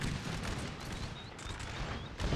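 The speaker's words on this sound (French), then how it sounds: "un petit canon 2 qui tire assez précisément" Cannon fire in Napoleon Total War 3 cracks out as a dense, rumbling barrage, with overlapping booms rolling continuously across the short span.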